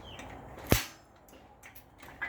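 A single sharp metallic click rings out as the release latch on a homemade hand-crank winch lift is pressed, loud and close against quiet background noise, followed by faint small rattles.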